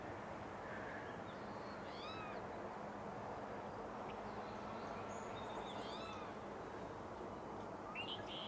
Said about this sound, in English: And here are the black-capped chickadees as well.